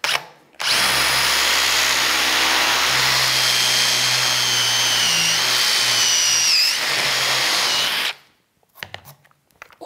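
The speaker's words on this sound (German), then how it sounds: "Jetzt nehmen wir nochmal den ältesten und kleinsten Forstner Bohrer, den ich überhaupt besitze." A power drill with an old, small Forstner bit runs loudly and continuously for about seven seconds, its whine shifting pitch as the bit cuts into wood, then stops abruptly.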